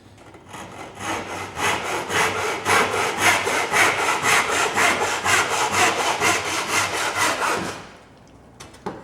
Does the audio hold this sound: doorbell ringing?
no